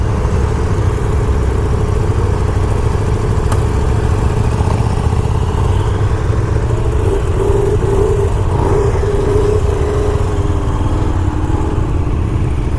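A KTM 390 Duke motorcycle on the road, its single-cylinder engine droning steadily under loud wind buffeting, with small shifts in pitch as it rides.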